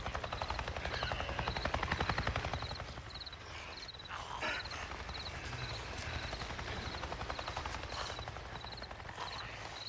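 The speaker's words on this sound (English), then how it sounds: "I just saw a goddamn chopper! A chopper? What are you talking about? A Nero chopper! It just buzzed right over me." Helicopter rotors thrum steadily and fairly loud in the Days Gone video game, a low pulsing drone with some crackle that peaks early and then eases slightly as the aircraft passes overhead.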